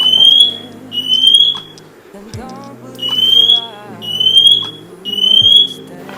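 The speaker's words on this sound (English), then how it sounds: "Wow, not my alarm going off." A smoke alarm set off by cooking beeps in a repeating pattern of loud, shrill tones, sounding over and over with short gaps, while a voice speaks underneath.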